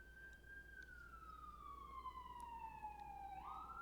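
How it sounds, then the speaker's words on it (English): An ambulance siren wails on a New York City street, its steady tone sliding slowly downward as it passes, then jumping back up near the end; faint and distant beneath city background rumble, with no speech. "there's an ambulance that might be coming by"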